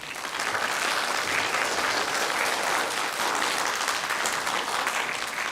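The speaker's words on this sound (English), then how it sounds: "Please give them a round of applause." A crowd claps steadily throughout, a dense, sustained round of applause with no talking over it.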